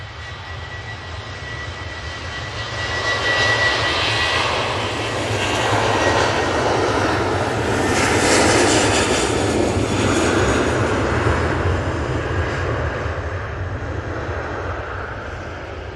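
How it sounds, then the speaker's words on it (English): A TUI Boeing 737-800 jet thunders through its takeoff roll, engines swelling to a loud sustained roar that peaks midway and then eases slightly as it departs, with no voices. "that TUI 737-800 is off to Naples"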